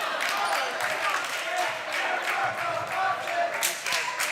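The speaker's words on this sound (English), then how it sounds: "The crowd is very pleased with the hustle by the Lumen." Steady crowd and bench cheering fills a varsity boys basketball gym, Newfane against Starpoint, after a steal and layup. Loud, continuous mixed voices and clapping carry throughout, and no individual voice stands out.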